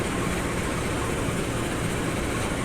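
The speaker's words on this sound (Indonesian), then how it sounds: "Ini dia lokomotif CC 20169 yang berliverykan vintage" Diesel locomotive CC 20169 in vintage livery, working a Tawangalun service, gives a steady, loud broadband rumble of engine and rolling rail noise that carries on without a break and with no voices.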